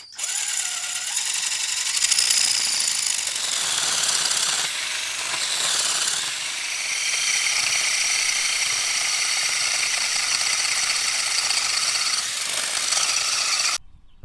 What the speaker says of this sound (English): The holes have been drilled into this pine log